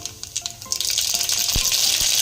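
Mustard seeds splutter in hot oil for a Kathiyawadi sev tameta shaak: scattered sharp pops and ticks at first, then a dense, loud crackling sizzle close by, with no voices.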